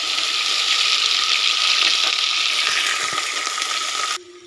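Cut okra pieces fry in hot oil with dried red chillies and curry leaves for bendakaya fry. A loud, continuous hiss of sizzling runs close up, with faint stirring scrapes, then cuts off abruptly.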